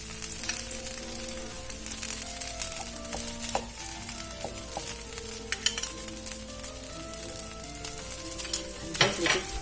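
Mixed-pulse pancake batter frying in oil in a pan on a medium flame, a steady close sizzle with crackling and popping throughout, briefly louder near the end.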